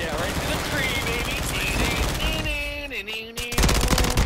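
Gunfire in a Call of Duty video game, loud rapid automatic bursts running throughout, with someone talking over them.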